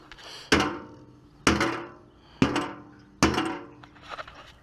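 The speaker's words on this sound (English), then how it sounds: "Well, I got the hammer." A hammer strikes vehicle parts on a project car being made street legal, four sharp metallic-wooden impacts about a second apart, each ringing out briefly, close and fairly loud with no talking.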